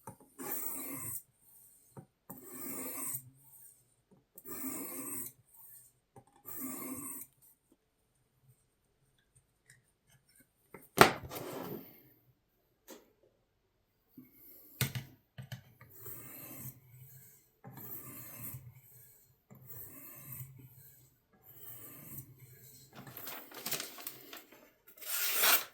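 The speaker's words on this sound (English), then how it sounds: "Now we just need to sharpen." A vintage Hammer Brand two-blade jack knife is sharpened, with several rhythmic rasping strokes in short groups, then scattered scraping and a few sharp knocks, close and fairly quiet.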